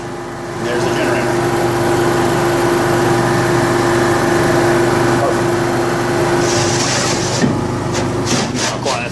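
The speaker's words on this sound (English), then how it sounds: "So if the generator, you hear it running right now." A food truck's generator runs steadily and loudly, with a constant droning hum through the whole stretch and a few faint clicks and knocks near the end.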